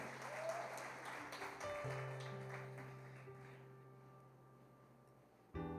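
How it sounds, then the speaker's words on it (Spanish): Church congregation clapping for the King during a service at CCI Luz y Vida in Barinas, Venezuela, a broad wash of applause that slowly fades over several seconds beneath sustained organ or keyboard chords, with a sudden loud burst at the end. "Dale un fuerte aplauso al Rey."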